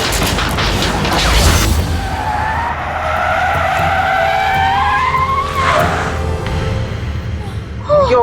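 A car skids with a loud sliding tire squeal that rises and wavers over several seconds, followed by rumbling and clattering as the vehicle breaks down, set in a horror drama scene.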